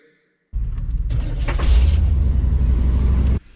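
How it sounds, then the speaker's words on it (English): Ride-on tow wrecker vehicle starting from a 12-volt jump pack, silence broken by a sudden engine rumble that settles into a steady, close idle before cutting off. "And it started the wrecker right up."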